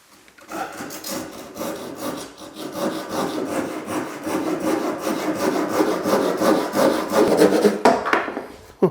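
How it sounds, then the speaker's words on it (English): A cheap coping saw cuts wood for a dovetail on a bench build, giving close, steady rasping strokes that grow louder and faster before stopping. "The bargain basement coping saw is going to go through this."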